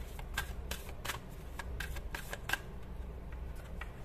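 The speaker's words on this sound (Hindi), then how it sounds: "तो ये कार्ड्स हम निकाल लेंगे" A deck of playing cards being handled and shuffled, with a series of crisp, papery flicks and snaps at an irregular rhythm, close and fairly quiet, with no talking.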